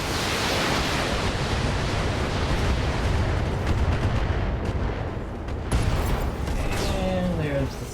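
Mech weapons fire in a BattleTech battle: a dense, continuous roar of loud blasts and rumbling impacts, with a few sharper bursts near the end.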